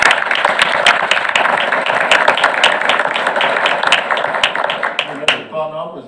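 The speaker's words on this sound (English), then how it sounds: "one loud, rousing applause for that" A crowd claps in loud, dense applause at a school board meeting, the clatter continuing for several seconds before thinning out as a voice starts speaking at the end.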